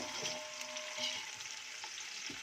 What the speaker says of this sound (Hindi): सबसे पहले ऑनियन ऐड कर लेंगे। थोड़ी देर फ्राई करेंगे इनको